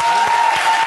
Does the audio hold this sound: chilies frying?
no